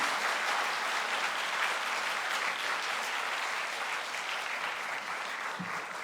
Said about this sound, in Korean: 우리 안상혁 총장님 큰 박수로 모시도록 하겠습니다